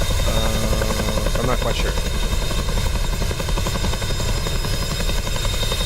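Huey helicopter in a flight game, its rotor thumping in a constant loud pulsing drone with engine whine, while someone talks over it.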